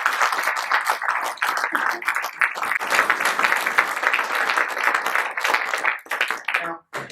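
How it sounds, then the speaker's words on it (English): A room of attendees gives a sustained round of clapping after a talk, brisk and even with individual hand claps audible, tapering off near the end as a voice begins. "please join me in a round of applause to thank Monte for his presentation"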